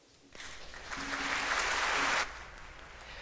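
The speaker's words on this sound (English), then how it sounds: "Please greet him with your applause." Church parishioners applaud to welcome their new pastor, a dense wash of clapping that swells for about two seconds and then stops abruptly.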